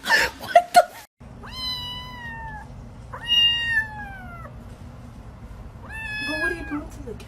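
A cat lets out three drawn-out, whining meows at close range, each rising and then falling, with a brief burst of clattering noise just before them.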